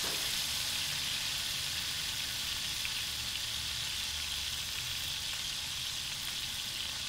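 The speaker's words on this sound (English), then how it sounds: "take another look at our pork over here. You want to sear all sides." Pork searing in a hot pan, a continuous bright sizzle and crackle of frying held steady throughout, fairly close and alone with no talking.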